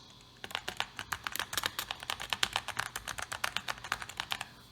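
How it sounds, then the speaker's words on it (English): Rapid clicky keystrokes on a 1994–1996 IBM ThinkPad laptop keyboard, a fast irregular patter of sharp distinct clicks heard up close, steady for several seconds with no talking. "it's a clicky keyboard on a laptop"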